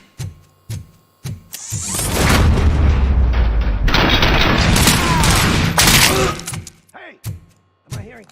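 Rapid gunfire and heavy blasts from the video game RoboCop: Rogue City, a loud continuous burst of shooting with booming impacts lasting several seconds, with brief game voices speaking before and after.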